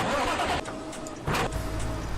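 Truck engine in Farming Simulator 17 runs with a loud mid-pitched rumble that drops briefly and then surges back up, close and alone with no speech.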